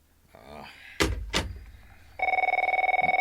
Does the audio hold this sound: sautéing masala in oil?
no